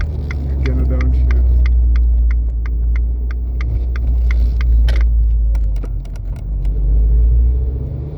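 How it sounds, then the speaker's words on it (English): Abarth 595C Turismo MTA with a Record Monza exhaust and the top open, engine droning loud and steady at low pitch through a downshift, with a series of short crackles and pops over the rumble. "Also the downshifts are really enjoyable in my opinion. Again, a downshift."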